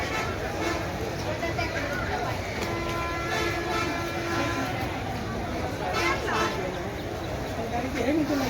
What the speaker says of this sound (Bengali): নারায়ণগঞ্জ থেকে কমলাপুর স্টেশনের উদ্যোগে চলে যাচ্ছে এই ট্রেনটা।